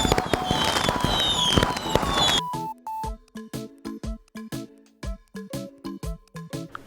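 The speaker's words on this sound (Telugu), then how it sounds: "పిల్లలు టపాసులు కాలుస్తున్నారు" Firecrackers burst in a dense crackling barrage before a series of separate loud bangs pops out one after another at an irregular pace, close by, with no clear talking.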